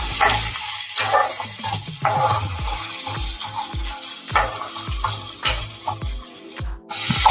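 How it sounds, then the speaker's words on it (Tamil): Chopped tomatoes sautéing in a pan for a spicy chicken gravy, giving a steady close sizzle broken by repeated stirring scrapes and clinks of the spoon against the pan, with no voices. "தக்காளி போட்டுக்கலாம். கொஞ்சம் நல்லா வதங்கணும்."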